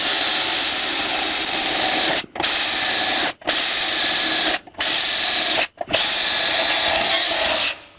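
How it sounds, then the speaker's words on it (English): A power drill bores rosette-weld holes into the rusty frame of a 1949 Chevrolet gasser. Five loud, close whirring bursts are broken by four short pauses, with the last burst cutting off at the end. "drilling holes for rosette welds to hold our patches in place"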